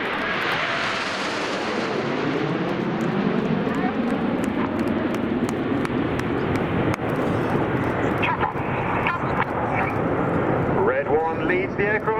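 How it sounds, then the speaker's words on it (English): RAF Red Arrows aerobatic jets pass overhead in big battle formation at the 2019 Cosford air show, a loud sustained engine roar that sweeps through, while a commentator talks over the noise. "leads the aircraft over in big battle formation, the red, white and blue smoke trailing behind as they pull up to the vertical"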